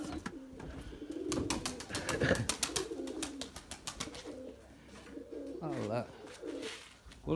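Pigeons coo at dusk in a loft, several soft throaty calls rising and falling at close range over a faint background, with a voice murmuring at times.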